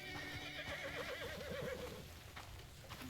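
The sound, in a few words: horse neighing in video game Crimson Desert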